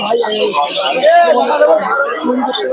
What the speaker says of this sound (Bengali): খুবই সুন্দর কবুতর গুলো কৃষ্ণনগর আছে ভালো ভালো কালেকশন পাওয়া যায়